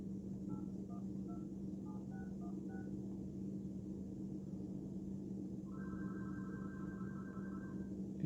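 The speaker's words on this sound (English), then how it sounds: "Let's see if we can dial anyone." An iPhone 13 Pro Max dialing a number: a quick series of short keypad tones, then after a pause a repeating ringback tone, all over a steady low electrical hum.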